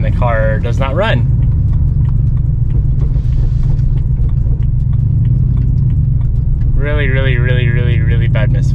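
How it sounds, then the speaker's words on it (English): A supercharged V8 BMW M3 with a bad misfire runs with a loud, steady, rough low rumble throughout, and two short rising revs stand out near the start and near the end. "Really bad misfire."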